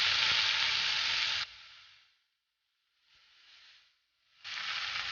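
Chopped fenugreek greens sizzle loudly in hot oil with reddened garlic and green chillies. The frying hiss cuts off, dwindles to near silence, rises softly, then returns strongly.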